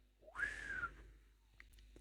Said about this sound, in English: That wasn't a very good whistle.